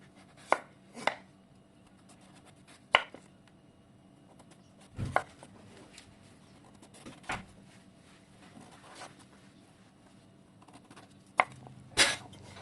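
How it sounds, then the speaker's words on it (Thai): A knife slices pumpkin into thin pieces on a board in scattered single strokes, crisp and close, with quiet pauses between the cuts. "แอมินจะหั่นแบบนี้เป็นชิ้นบางๆค่ะ"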